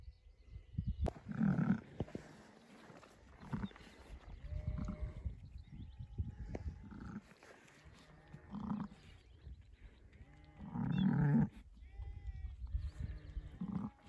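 A ewe bleats loudly and close by, with two strong calls and several softer ones among a flock of sheep in the snowy Nurhak mountains, where the last ewe is giving birth. Steady background noise runs throughout.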